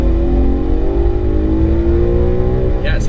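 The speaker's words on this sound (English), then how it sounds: "Yeah, it sounds like a V8, doesn't it?" 2011 BMW M3 V8 engine revving from inside the car, a loud, steady rising drone with clear harmonic tones climbing in pitch, ending with a brief shift in sound.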